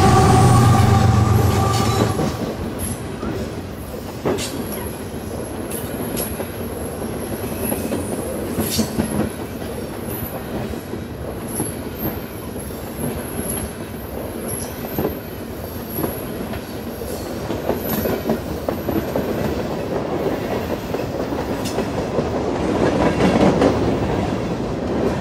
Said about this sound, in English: CP ran several trains a day over the Lehigh Line, including what NS classified as the 39Z, which we can see here moving northbound past the mill